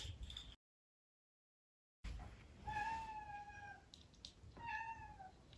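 A cat meows twice with drawn-out, wavering cries, fairly close, after a brief gap of silence.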